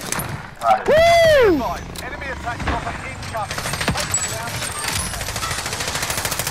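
Rapid automatic gunfire from the video game Call of Duty Warzone rattles in bursts behind a loud excited shout, with a vocal yelp rising over the shots and continued firing to the end.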